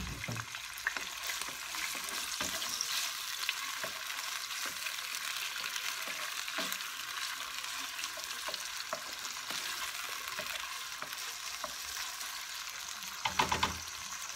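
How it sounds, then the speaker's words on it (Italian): Octopus sautéing in a pan for a ragù: a steady, even sizzle and frying crackle heard close up, with a few louder stirring scrapes near the end and no talking. "Lasciamo rosolare per qualche minuto"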